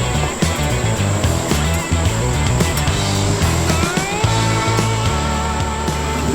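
A 4th Gen Ford Ranger 4x4 fitted with bar work and bash plates climbs a rock step off-road: a loud, steady engine drone with low rumble, tyre crunch and scraping on rock, and some mechanical rattle throughout.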